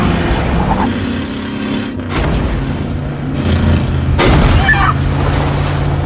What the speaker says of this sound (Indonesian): si Sheriff langsung menabrak mobil yang mereka tumpangi